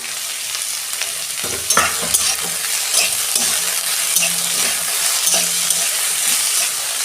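Onion, ginger and garlic fry together in a pan for a bitter gourd dish, with a steady close sizzle, stirring scrapes and a few sharp clinks throughout, no voices.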